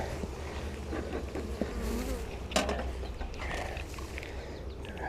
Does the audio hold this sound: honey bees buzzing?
yes